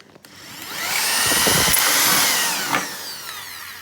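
A power drill bores out rivets on an aluminium panel of a Liteweight Panorama 506 caravan, whining up to a loud, sustained grind, then winding down over a few seconds.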